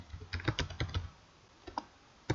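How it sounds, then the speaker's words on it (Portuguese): Someone types on a computer keyboard in a brief burst of quick, close key clicks, pauses, then taps a few more keys alone. "Pressiono o Enter e vamos digitar nossa terceira coluna."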